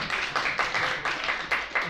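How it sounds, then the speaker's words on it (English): An audience at a Go congress claps in a short burst, with individual hand claps coming through in a quick, uneven rhythm at moderate loudness and no talk over them. "A round of applause, please."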